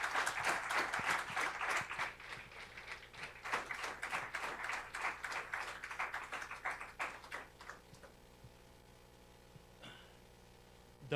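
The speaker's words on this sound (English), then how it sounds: "Round loud of applause for him." An audience at a national mathematics conference award session gives a short round of applause, dense at first and then thinning into scattered claps that fade out, followed by a few faint taps.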